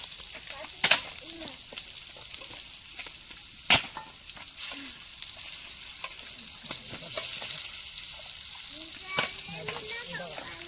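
Chicken kaul pieces frying in a pan, a steady soft sizzle broken by sharp clatters of stirring and a few louder pops, close by with no talking.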